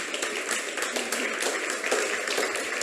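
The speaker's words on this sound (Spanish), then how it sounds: "Un gran aplauso para nuestra intérprete." An audience at a public museum talk applauds the interpreter, with a moderate, fairly distant patter of many hands clapping steadily throughout, with no one speaking.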